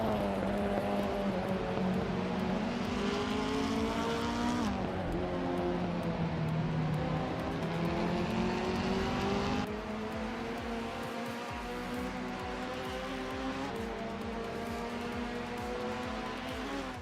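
Several race cars roar through a video game race, a steady layered engine drone with shifting pitches and a drop in intensity partway through, loud and continuous with no talk.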